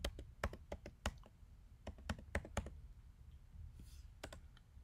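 Quiet computer keyboard typing of a password: sharp, irregular key clicks in quick bursts, close to the microphone, with a brief lull before a few final taps.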